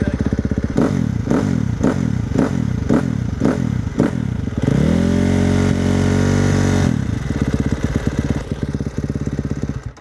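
A dirt bike engine revs close by in a run of rhythmic bursts, then holds a steady high rev before falling back to a rough, choppy idle.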